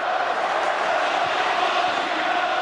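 Roar of a football crowd going up as a European cup night crowd cheers a goal for Manchester United against Galatasaray, a steady, dense wall of distant voices sustained without pause.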